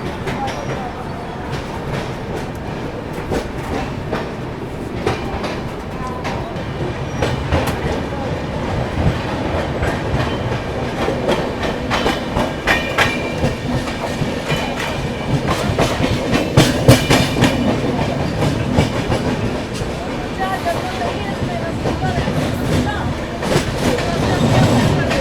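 The Gatiman Express pulls out of Gwalior Junction, a steady loud rumble of rolling carriages with rhythmic clickety-clack of wheels over rail joints and brief squeals, heard close throughout.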